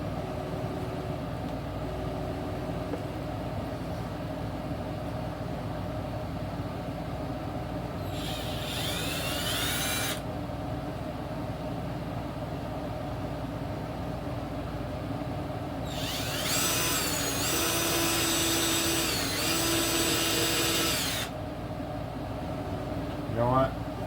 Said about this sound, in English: I gotta drill the two holes for the